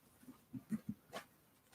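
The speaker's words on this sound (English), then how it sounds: "That's our old dog." An old pet dog gives a few soft, short woofs or whimpers in quick succession, faint and somewhat distant in a quiet room, with no one talking.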